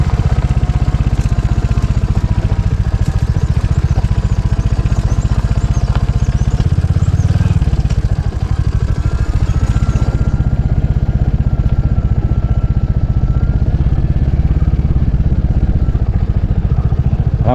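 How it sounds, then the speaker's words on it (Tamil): A Royal Enfield Hunter motorcycle riding a mountain road, its engine a loud, steady, close drone with wind rush throughout, no voices over it. "ராயல் என்ஃபீல்டு ஹண்டரில் வந்து நான் இப்போ தான் வந்து மலை பிரதேசங்களில் முதல் முறையாக பயணம் பண்ணுறேன்"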